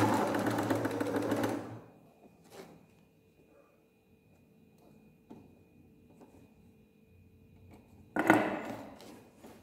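A sewing machine stitches a back stitch along the end of a homemade sound absorbing blanket, running loud and close for about two seconds, then stopping before a second short burst near the end, with quiet handling noises in between.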